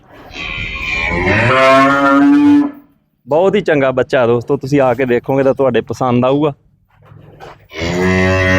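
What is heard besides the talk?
male buffalo calf mooing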